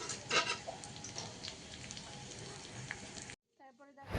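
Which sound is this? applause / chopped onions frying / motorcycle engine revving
chopped onions frying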